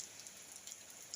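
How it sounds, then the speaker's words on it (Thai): Soft, steady rain falling outdoors in a rural Thai countryside setting, a faint continuous patter of drops with light ticks here and there, no voices. "ฝนลงมาแล้วครับพี่น้อง"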